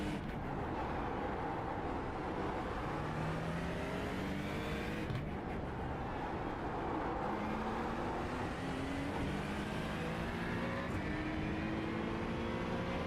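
A Ferrari GT3 race car engine in a racing video game on the Adelaide circuit drones continuously at moderate level, rising and falling in pitch through gear changes and corners, with no voices over it.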